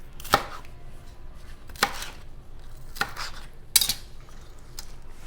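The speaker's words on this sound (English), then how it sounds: "And then you're going to cut it with a knife." Knife chopping peppers on a cutting board for Puerto Rican sofrito, four crisp, separate chops spaced about a second apart, close and clear with no talking.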